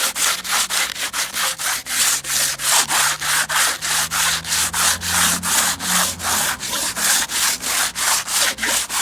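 Steady, light back-and-forth sanding on old mine headframe wood, rhythmic rasping strokes at an even pace, close and continuous with no talking.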